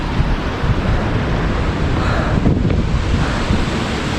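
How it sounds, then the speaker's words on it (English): Waterfall on the La Cloche Silhouette Trail in the mountains of Ontario, a loud, dense, steady rush of falling water with wind buffeting the microphone, continuous and unbroken. "There's the waterfall."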